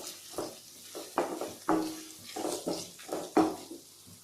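Onions, dried red chillies and curry leaves sauté in a pan for ragi semiya, giving a sizzling hiss broken by repeated scraping stir strokes in an uneven rhythm, close and clear.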